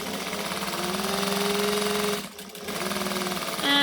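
A sewing machine runs steadily along a jacket seam for McCall's M6442, its motor whirring close and loud, then stops for a brief moment before starting again for a reverse back stitch.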